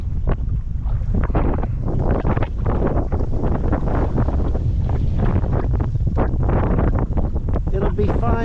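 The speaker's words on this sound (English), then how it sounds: "Oh boy, we got some wind." Strong wind buffeting a microphone on a lake during a paddling trip, a steady loud roar with gusting rumble and splashy water noise throughout, no clear speech over it.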